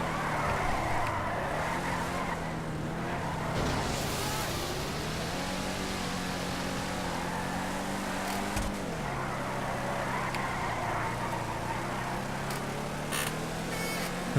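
A car engine in GTA V holds a steady drone whose pitch rises and falls as the throttle changes through turns, loud and continuous with faint clicks on top.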